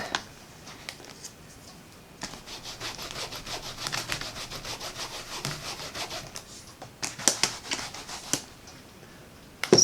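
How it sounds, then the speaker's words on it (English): A rubber stamp is rubbed clean of ink by hand, giving a steady run of dry, rhythmic scrubbing strokes at close range with short pauses and a final burst of quicker rubs, no talking. "A nice little rub over here to get that ink off of there."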